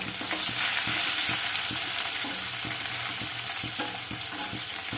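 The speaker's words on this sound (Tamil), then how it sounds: "நீல வாக்கில் மெல்லிசா அரிஞ்சு வச்சிருக்க வெங்காயம் போட்டுக்கிறேன். பெரிய வெங்காயமாக இருந்தால் 1, சின்ன வெங்காயமாக இருந்தால் 2. இதையும் வதக்கிக்கலாம்." Thinly sliced onions sautéing in a pan for capsicum rice, a steady close sizzle with frequent scraping stirs and clinks throughout, no voices.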